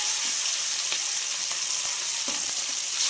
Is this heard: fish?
yes